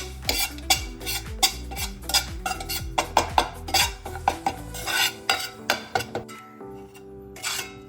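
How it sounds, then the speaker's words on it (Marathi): A spoon scrapes and stirs chilli powders through hot oil in a metal pan for a spicy potato dish, with a steady rhythm of close, repeated strokes and clinks. "आता हे व्यवस्थित मिक्स करून घ्यायचंय आहे तेल आपलं गरमच आहे"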